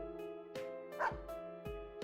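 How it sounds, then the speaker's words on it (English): A dog in the fighting game Persona 4 Arena Ultimax gives several sharp, evenly spaced barks and yips, clear and fairly quiet over a faint steady game hum. "The dog barks."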